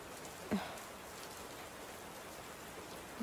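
Soft, steady rain patters continuously at a low level, with one brief knock partway through and no voices.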